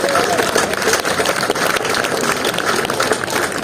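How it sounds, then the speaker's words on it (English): Audience at a Relay for Life charity event applauding cancer survivors, with loud, sustained crowd clapping that stays continuous throughout. "So can I give again a big round of applause to all our survivors"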